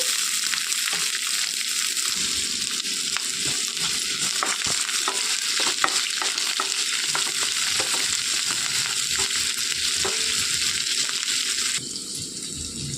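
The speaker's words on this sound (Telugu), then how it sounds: "కొద్దిగా ఆవాలు, ఎండుమిర్చి, కరివేపాకు, సన్నగా తరిగి పెట్టుకున్న ఉల్లిపాయలు వేసి వేయించుకోవాలి" Mustard seeds, dried red chillies, curry leaves and finely chopped onions fry in hot oil with a loud, dense crackling sizzle and frequent stirring clicks, steady throughout and quieter toward the end.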